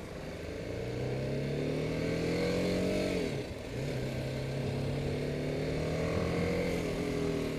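A BMW G310R single-cylinder motorcycle of 34 hp pulls away from a start, its engine note climbing steadily, dipping briefly at a gear change, then rising again, close and continuous with no speech.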